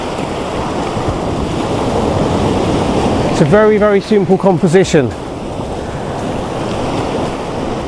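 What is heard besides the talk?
ocean waves breaking over rocks on a beach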